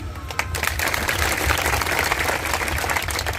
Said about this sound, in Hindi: तो इन सबके लिए भी जोरदार तालियां।